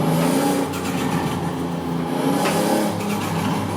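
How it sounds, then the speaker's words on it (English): A sports car engine drones and revs steadily throughout, loud and continuous, with a faint tire squeal in the mix, like a racing game. "this car is awesome. Listen to the sounds."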